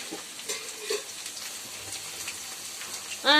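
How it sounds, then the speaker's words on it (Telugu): Roti cooking on a hot pan gives a soft, crackling sizzle with scattered pops, with a brief clatter near the start and a sudden louder burst at the end. "ఆ వేడెక్కిన తర్వాత బాబు రొట్టెలు తయారు చేస్తారు."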